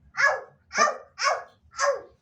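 A dog barks four times in an even rhythm from a children's animal toy or game, with short, clear, close barks separated by brief pauses.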